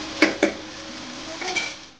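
A few light metallic clinks of a lid set onto a pot: two quick taps, a pause, then two more.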